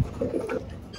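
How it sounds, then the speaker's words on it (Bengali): A male pigeon coos once up close, a short soft throaty call rising and falling over about half a second against quiet background hiss. "এই হলো আমার একটা নর কবুতর।"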